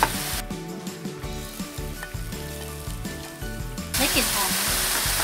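Seasoned taco meat stir-frying in a pan: a continuous close sizzle with scraping stir strokes, under a voice speaking throughout, the frying growing louder near the end.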